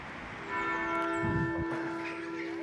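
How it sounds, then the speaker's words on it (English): Chester Cathedral's bells chiming nine o'clock, heard from outside in the gardens: a struck bell with long ringing overtones that swells and sustains, moderately distant. "Oh, they're chiming 9 o'clock right now."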